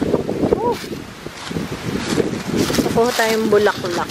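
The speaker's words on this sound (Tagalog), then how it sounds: "Sobrang mahangin." Strong wind gusts through an outdoor vegetable garden, rumbling and buffeting the microphone steadily while a person talks over it.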